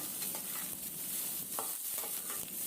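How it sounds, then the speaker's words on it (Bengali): Carrots and beans sizzle softly in an oil pan while a utensil scrapes and stirs them, and turmeric powder is added. A few clinks sound over a steady, quiet frying hiss, with no talking. "আরও 2-3 মিনিট আমি সব হালকা ফ্রাই করে নিয়ে এবার হলুদের গুঁড়ো দিলাম।"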